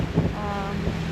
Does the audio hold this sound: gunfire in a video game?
no